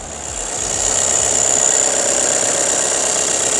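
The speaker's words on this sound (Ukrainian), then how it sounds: "Машина працює Рівненька, взагалі рівненька." A Skoda Octavia A8 engine idles steadily and smoothly, a low continuous rumble with a faint high whine, close by and without talk.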